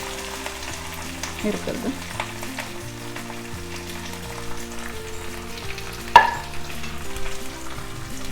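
Curry leaves and onions sauté in an oil-filled pan, a moderate steady sizzle with a few sharp crackles and one louder spit, while someone briefly speaks over it.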